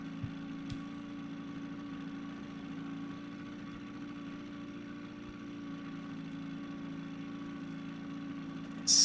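A low, steady boat engine drone from the fishing game Russian Fishing 4 hums throughout without change, fairly quiet, with a brief click at the start and end.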